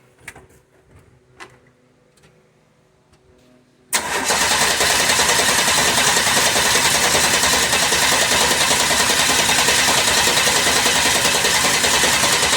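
An engine that has sat unused for a week and is ice cold, with the choke pumped, catches abruptly after a few seconds of faint clicks and knocks, then runs loudly and steadily at a fast idle nearby.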